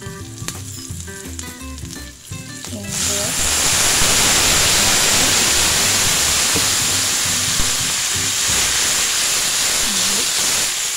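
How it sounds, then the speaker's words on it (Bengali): Two green chilies hit hot oil for tempering in a pomfret masala curry, setting off a loud, continuous sizzle up close that follows quieter clinks and stirring. "দুটো কাঁচা লঙ্কা ফোড়ন দিলাম"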